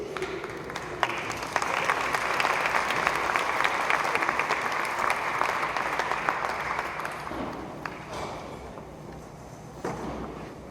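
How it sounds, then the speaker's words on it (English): A forum audience in Buffalo claps steadily in sustained applause that holds for several seconds and then gradually thins toward the end. "Let's give another round of applause to our Regent, Dr. Patrick Collins"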